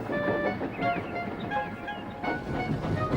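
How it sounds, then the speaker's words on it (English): A steam engine pulls a train of heavy coal trucks past, a steady close rumble with rhythmic rail clatter and faint whistling tones throughout. "Douglas steamed by. He was pulling a train of heavy coal trucks."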